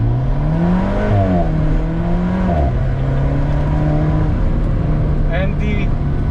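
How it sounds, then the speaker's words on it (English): An Alfa Romeo 4C's engine pulls hard from inside the car, its drone rising and dropping through gear changes. Brief turbo blow-off whooshes break in near the end, all steady and loud. "You can hear the blow-off gate noises, the whoosh whoosh as you're driving"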